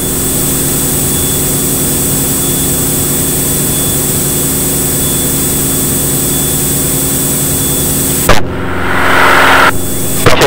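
A light aircraft engine roars at full throttle on a night circuit takeoff, a loud steady drone heard from nearby, briefly interrupted by a burst of noise near the end, with no voices.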